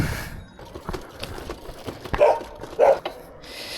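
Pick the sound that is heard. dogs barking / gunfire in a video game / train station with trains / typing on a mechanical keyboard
dogs barking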